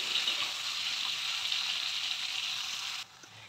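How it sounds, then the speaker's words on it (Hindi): About 750 grams of chopped onions frying in a kadahi for kadahi chicken, giving a loud, steady hissing sizzle up close that drops away sharply near the end, with no talking. "हम करीब 750 ग्राम प्याज काट लिए हैं, इसको डालकर हम भूनेंगे बिल्कुल गोल्डन ब्राउन होने तक।"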